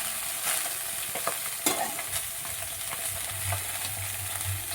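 Cabbage leaves fry with garlic in a pan while a utensil stirs them, giving a soft steady sizzle with scattered scrapes and one sharper clatter, close and without speech.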